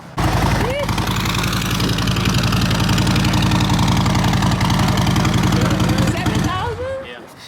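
A Harley-Davidson Road Glide motorcycle engine cranks and catches, then settles into a loud, close, lumpy idle for several seconds before cutting off, with a voice talking over it.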